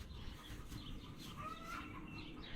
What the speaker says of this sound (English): You hear them crazy hens?